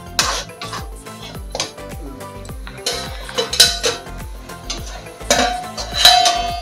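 A spoon scrapes and clinks against a pan while a spiced taro leaf dish is roasted and stirred, with a repeated, close rhythm of metallic scraping and occasional louder knocks.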